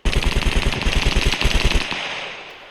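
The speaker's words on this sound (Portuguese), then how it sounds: "pela distância você pode atirar de hipfire, não tem motivos para você não tentar" Rapid automatic gunfire from hip-fire shooting in the survival game SCUM rattles out in a loud, close, unbroken burst of evenly spaced shots, then stops abruptly and leaves a brief fading echo.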